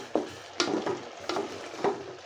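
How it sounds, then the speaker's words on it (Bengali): Bitter gourd and potato curry being sautéed in a pan, with a spatula scraping and stirring in several distinct strokes over a soft, steady sizzle, close and moderately loud. "আমি এই সবজিটা ভালো করে একটু কষিয়ে নেব"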